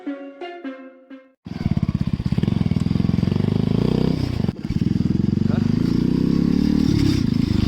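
A Bajaj Pulsar 220 motorcycle engine starts up after a short stretch of music and runs loud and close, a steady rapid throb with one brief dip midway.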